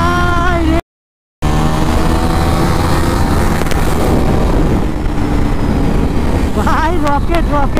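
A KTM Duke 390 motorcycle engine roars loud and close, with a rising rev at the start and sharp revving again near the end, over a steady drone and a brief cut.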